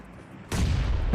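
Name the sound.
bomb explosion in PUBG Mobile video game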